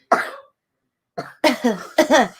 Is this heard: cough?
yes